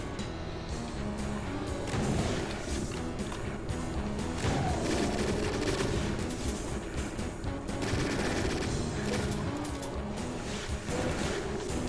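Many chaingunners in Doom II fire chainguns at once, a dense, continuous rattle of rapid gunfire that stays loud for the whole stretch with no pauses.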